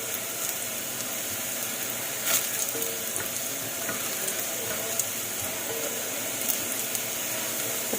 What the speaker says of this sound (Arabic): ادي البصلة عندي بتتحمر اهي